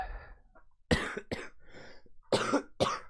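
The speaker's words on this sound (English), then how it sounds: "There we go. First cough." A person coughs several times in sharp, close bursts, with a few breathy throat sounds between them.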